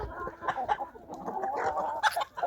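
Chickens in a garden cluck in short, overlapping bursts as they eat alongside geese and ducks, close and moderately loud with a brief sharper squawk near the end.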